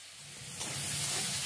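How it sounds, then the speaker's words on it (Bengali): Tomatoes with turmeric and salt frying in a pan give a soft sizzle that swells into a steady brighter hiss partway through, quiet and close. "এবার এটাকে আমি ভালো করে ভেজে নিচ্ছি।"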